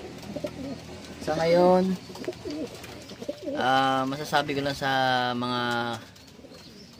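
Racing pigeons coo close by in drawn-out, repeated throaty calls, with someone briefly speaking between them.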